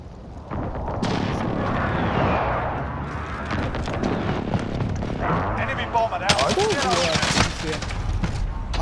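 Gunfire and explosive airstrike blasts from Call of Duty: Modern Warfare, with dense sustained booms and crackling shots, heaviest bursts near the end, loud and close with players talking over the din.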